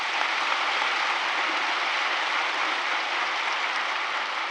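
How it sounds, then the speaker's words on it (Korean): An audience claps in a dense, steady ovation at an Easter union worship service in a large church, the applause sustained and evenly loud from start to finish with no voices standing out. "아울러서 박수 한번 해주시면"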